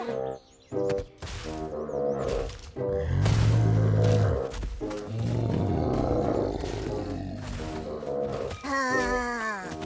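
A cartoon bear in the Leo and Tig animated series lets out several loud, growling roars amid lively cartoon sound effects, with the roars building into a long, sustained bellow midway through.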